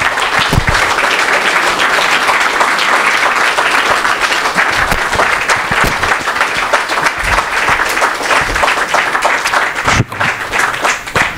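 Loud, vigorous applause from an audience after a talk on black holes, many hands clapping in a thick continuous roar with some sharper individual claps standing out.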